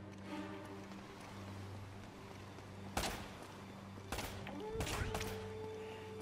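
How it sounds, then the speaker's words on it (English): A few sharp AK rifle shots in Uncharted: Drake's Fortune, spaced apart and fairly quiet over a steady low background hum. "I'm gonna use my AK now"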